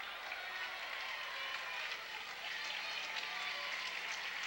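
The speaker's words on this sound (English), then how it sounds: "And even the Reading fans give Aaron Beasley a round of applause." Basketball crowd at a high school boys' game in Reading applauding a player who has fouled out, steady dense clapping filling the gym throughout at moderate level.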